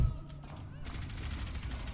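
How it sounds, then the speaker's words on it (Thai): Rapid bursts of gunfire in the video game F.E.A.R. 3 crackle in quick succession over a busy background, fairly loud and close. "มีเสียงปืน"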